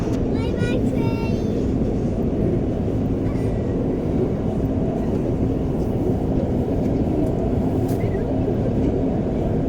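An REM light rail train rolling past between forest and highway, a continuous rumbling rush with faint high squeal near the start, heard steadily under the ride's background noise.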